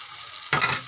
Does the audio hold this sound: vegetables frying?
yes